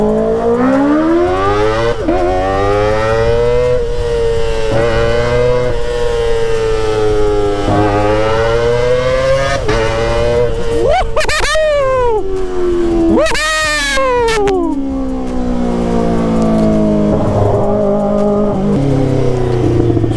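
A Kawasaki ZX-25R motorcycle revs while stuck in a traffic jam, its high, wailing engine note climbing and falling in repeated sweeps, with sharp blips near the end and a voice talking over it.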